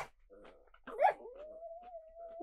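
A dog whimpers and whines for food, short yips followed by a long, thin, rising whine that holds steady near by, with no talking.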